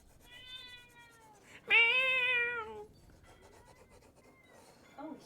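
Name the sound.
cat meowing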